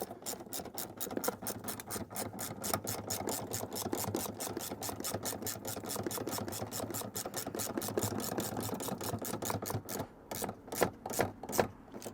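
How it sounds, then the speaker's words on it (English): A ratchet drives the original OEM seat screw back into a Toyota 4Runner-type seat mount, making a long, fast, even run of close clicks for about ten seconds before slowing into a few spaced strokes at the end. "we're going to take the OEM screw and screw it back here"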